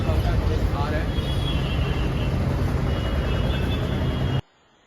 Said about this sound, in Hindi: पहले एक बार आप बाहर का नॉइज सुनिए, पीछे ट्रैफिक है, अच्छा खासा नॉइज आ रहा है